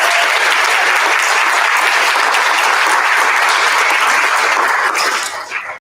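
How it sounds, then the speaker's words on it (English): A school board audience in Wappingers breaks into sustained, loud applause, dense clapping filling the room steadily for several seconds before tapering off at the end. "I think 37 warrants a round of applause."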